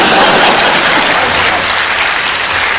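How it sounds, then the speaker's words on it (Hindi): Audience applause from a comedy poetry show crowd, dense and steady at full volume throughout, with no voices standing out. "और अब आपकी तालियां उठेंगी"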